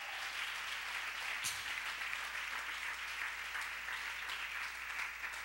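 A church congregation claps together as an offering to God, a steady, dense burst of applause filling the space with one brief louder knock near the start and no voices over it.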